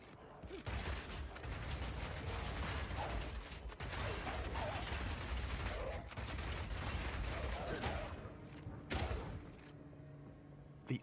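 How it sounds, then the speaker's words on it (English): Rapid shot crossbow fire in Path of Exile 2, a dense, continuous stream of mechanical clacks and impacts over busy combat noise, nearly unbroken for about ten seconds with brief dips. "This is a rapid shot crossbow. Rapid shot is great for closing on enemies because you can shoot while running."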